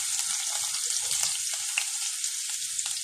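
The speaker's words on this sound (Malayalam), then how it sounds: "തക്കാളി ഒഴികെയുള്ളതെല്ലാം ഇട്ട് ഇതൊന്ന് വാട്ടാം." Chopped onion, garlic, ginger, green chili and curry leaves sauté in a pan for egg curry, giving a close, steady sizzle of frying with faint stirring scrapes.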